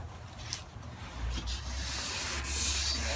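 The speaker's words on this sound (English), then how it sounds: "I sanded the whole thing from left to right" A wet plastic car headlight lens is sanded by hand in left-to-right strokes, making soft, close rubbing and scraping swishes that grow slightly louder and steadier toward the end.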